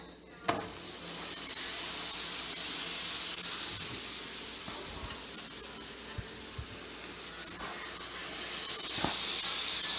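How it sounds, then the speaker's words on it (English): A steady, fairly quiet hiss of buttered ham and cheese sandwiches frying in a pan, with a few faint pops and clicks along the way. "That is a good sizzle."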